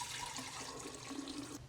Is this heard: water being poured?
yes